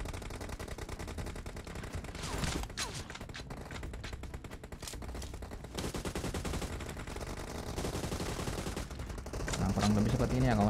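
Gunfire from a weapon in a mobile shooter game, a dense, continuous stream of rapid shots with busy game sound effects throughout, growing louder toward the end.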